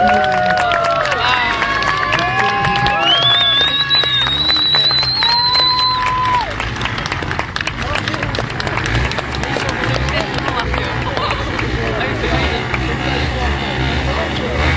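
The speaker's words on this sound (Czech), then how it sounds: "Prosím vás, velký potlesk právě teď" Crowd applause at an outdoor children's day event in Krnov: dense, continuous clapping and crowd noise under a loud voice on a public address system, with whistle-like tones early on and the clapping filling the latter half.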